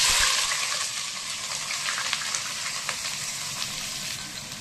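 Onions frying in ghee with cardamom pods and cinnamon sticks for ghee rice, a steady close sizzle with occasional pops and crackles, no talking.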